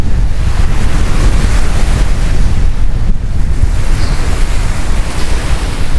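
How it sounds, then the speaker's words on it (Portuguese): Ocean waves break on a beach in a continuous loud roar of surf, with strong wind buffeting the microphone throughout. "Agora vamos sair da parte da praia, parte da água ali que tá fazendo bastante barulho também, né?"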